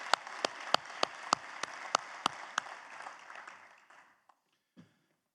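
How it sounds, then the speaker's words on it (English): A convention audience breaks into applause after an annual report, with a few sharp, evenly spaced claps standing out over scattered clapping that thins and fades into near silence, leaving a last isolated clap or two. "Let's give them another round of applause for the work they've done."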